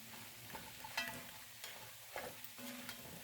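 Food is stirred in a pan on a farm kitchen stove, with a faint sizzle beneath soft scraping and occasional clinks of the utensil, quiet and close, with no talking.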